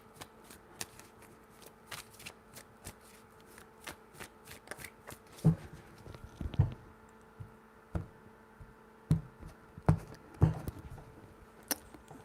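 Tarot cards are handled and shuffled in a soft run of light slaps and flicks, irregular taps scattered across a quiet background, close up.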